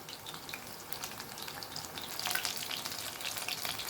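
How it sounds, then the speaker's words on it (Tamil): Chicken 65 pieces coated in Aachi masala deep-fry in oil, giving a dense, steady crackling sizzle that swells slightly toward the end, close and uninterrupted. "சூப்பராக பொரிஞ்சு வருது பாருங்கள்."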